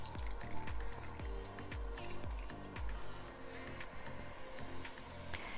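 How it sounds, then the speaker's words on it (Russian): Water is poured through a funnel into the tank of a MIE Stiro Nonstop steam generator iron, a steady close trickling and gurgling fill with rhythmic low thumps underneath. "вставляем воронку, берем воду и доливаем ее в парогенератор."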